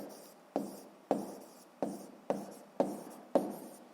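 A pen or pencil writes in a school notebook during a sixth-grade maths exercise, with seven evenly spaced scratchy strokes, each starting sharply and fading, close and fairly quiet, with no voices.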